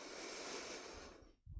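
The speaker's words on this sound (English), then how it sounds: "Take a big breath in" A deep, slow breath drawn in during a yoga flow, a close, airy rush of inhalation that fades before a soft sound at the end.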